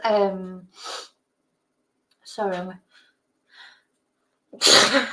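Two sharp sneezes, each a voiced wind-up ending in an explosive burst, separated by a pause, with a third burst at the end.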